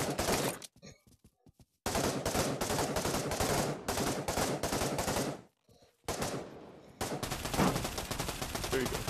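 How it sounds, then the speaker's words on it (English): Sustained bursts of rapid automatic gunfire from a video game crackle loudly, broken by brief pauses, with scattered single shots and a voice faintly under the din. "I got a bunch of gunfire in my ears."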